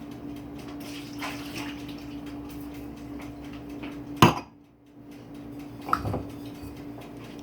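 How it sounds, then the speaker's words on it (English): Hot tap water runs steadily while a glass is rinsed in a kitchen sink, with a low hum underneath, a sharp clink of glass midway and a second smaller knock, no talking. "I just rinse out the glass"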